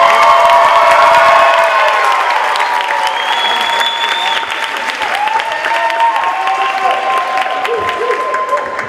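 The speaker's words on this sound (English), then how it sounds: "Round of applause." Loud, sustained audience applause with cheering and whoops fills a school evening percussion concert, steady throughout and gently easing toward the end, with crowd voices mixed in.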